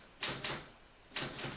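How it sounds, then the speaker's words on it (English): Bursts of clacking keystrokes on a loud old metal-cased typewriter, two quick clusters of sharp strikes separated by a brief pause, close and clear with no talk. "I just hear Charlie's like loud ass 1950s typewriter."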